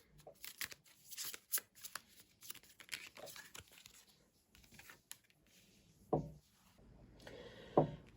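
Tarot cards being shuffled and drawn by hand at a table during a pick-a-card reading, heard as quiet riffling and flicking with soft taps and two sharper card snaps near the end.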